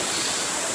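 Water rushes steadily at a monsoon waterfall near Bhimashankar, a dense, broad, unbroken roar, loud and close, with no speech.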